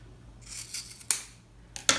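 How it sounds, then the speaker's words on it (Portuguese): Scissors snipping through a small fabric strap for a blouse organizer, a brief rasping slide followed by two sharp close cuts. "Então, eu vou deixar só um pedacinho assim e vou cortar."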